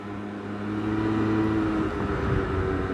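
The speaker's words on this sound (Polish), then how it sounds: "No i sobie będę docierał ten skuter" A scooter engine runs steadily while riding, a continuous low drone that rises slightly in pitch and loudness as it picks up speed, with wind rumble mixed in.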